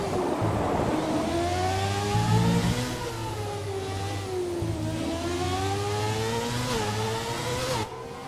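Formula 1 race car engines in F1 2017 video game, a loud sustained high-pitched whine that rises and falls with gear changes as the cars accelerate, heard alone without talk.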